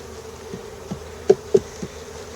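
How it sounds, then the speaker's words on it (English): Bees buzz steadily at moderate level around beehives that were kicked down in an apiary, with a few brief louder taps or knocks standing out over the continuous drone. "We are the bees drinking some honey."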